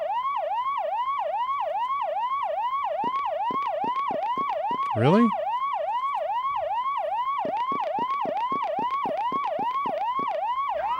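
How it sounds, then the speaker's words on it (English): A wailing police car siren from the PlayStation game Clock Tower cycles steadily and loudly through the whole stretch, rising and falling in a rapid repeating pattern, with one brief spoken word cutting in near the middle. "A police car siren is heard."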